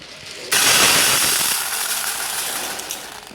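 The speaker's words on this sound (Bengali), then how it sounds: "এখানে দেখো ডাল ঢেলে নিচ্ছি" Dry lentils (dal) poured into a container, a sudden rushing, hissy pour of small grains that starts abruptly and continues steadily, fading slightly toward the end.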